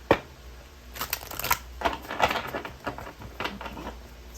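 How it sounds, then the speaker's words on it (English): Oracle reading cards from a Heal Yourself deck being shuffled by hand, a run of soft papery riffles and flicks close up, with a sharper card snap at the start and no talking. "I'm gonna pull some cards from the Heal Yourself reading"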